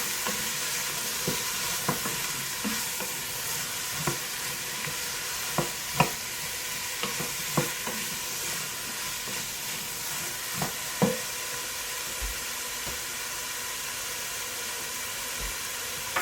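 Vegetables being sautéed in a pot for a lentil stew, with a continuous soft sizzle underneath and repeated scraping and knocking strokes of a spoon, irregularly spaced throughout.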